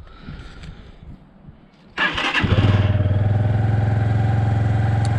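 Lexmoto ZSB 125 motorcycle, a 2020 bike, starting from stone cold: a clattery crank catches after a quiet moment and settles into a loud, steady single-cylinder idle close by.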